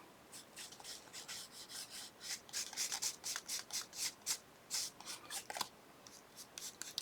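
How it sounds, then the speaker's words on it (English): Gold wax rubbed along the edge of a paper sleigh, quick repeated papery rubbing strokes in rhythmic bursts, close and quiet with short pauses and no speech. "I'm just adding some of that gold wax along to the edge of the sleigh here"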